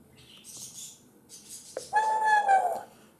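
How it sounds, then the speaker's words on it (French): An electronic King Arthur board game plays a bird call sound effect: soft chirping and a flutter, then a sharp click followed by a bright, sustained whistling tweet, close and clear. "nous avons donc entendu le bruit d'un oiseau volé"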